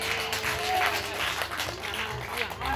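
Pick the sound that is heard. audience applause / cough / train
audience applause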